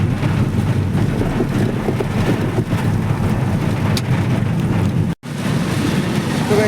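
Steady, dense rain falling outdoors, a continuous close wash of noise with wind buffeting the microphone, broken by a brief dropout near the end; no voices.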